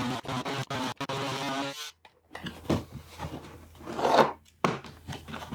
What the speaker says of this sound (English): Now I'm going to use the electric scissors.